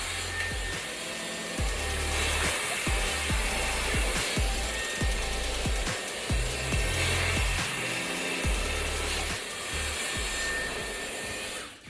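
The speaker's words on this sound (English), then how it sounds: "Always go with the brush and the nozzle of the hair dryer directed to the end." A hair dryer blows steadily and loudly, close up, while hair is blow-dried with a brush, its constant airflow roar broken by brief dips and brush strokes against the hair.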